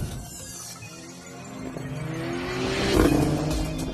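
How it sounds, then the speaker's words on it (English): A Mercedes-AMG A45 with four-wheel drive launches hard at a drag race, its engine note rising in pitch and growing louder, with a brief tyre squeal as it pulls away. "Traction matters so much in launching, and this thing with 4-wheel drive, boom."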